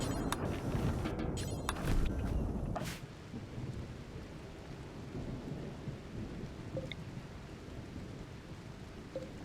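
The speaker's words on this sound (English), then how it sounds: "There, even summon lightning." A summoned lightning strike and thunderstorm in the video game RimWorld: a loud thunder rumble in the first three seconds gives way to steady rain hiss that continues at a lower level, with no voices.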